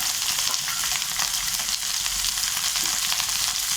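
Onion, tomato, garlic and ginger sautéing in a pan for roadside-style salna, a dense, loud, continuous sizzle and crackle close up with no talking.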